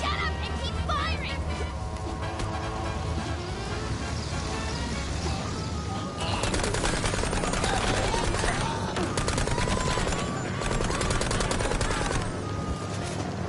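Gunfire in the game Mouse: P.I. For Hire, continuous rapid shots layered over game music and effects, loud and dense throughout and intensifying in the second half, with a voice talking over it.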